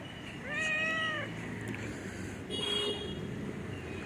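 A cat lets out one clear, drawn-out meow, followed a moment later by a shorter, fainter one, over a low background rumble.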